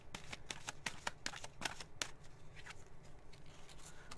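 Tarot cards are shuffled by hand in rapid riffling bursts, close and soft, with crisp snaps of card edges coming in quick irregular succession.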